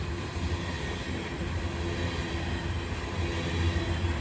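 A grain train rolls past at close range with severe flat spots on its wheels, a loud continuous rumble of cars with heavy pounding against the rails throughout.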